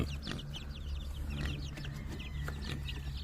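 Chickens clucking and cheeping close by in a farm flock as small chicks are moved in among the larger birds, with steady overlapping chatter and short higher calls throughout.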